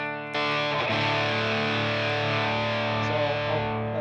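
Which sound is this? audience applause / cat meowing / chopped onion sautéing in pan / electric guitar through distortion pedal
electric guitar through distortion pedal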